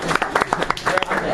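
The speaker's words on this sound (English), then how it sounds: "everyone give you a round of applause" Comedy night audience claps briefly, scattered hand claps over murmuring and a voice talking through it.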